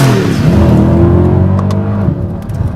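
A Mercedes-Benz E63 AMG V8 revs loudly up close, its deep engine note climbing and then settling in a single sustained rev, with no talk over it.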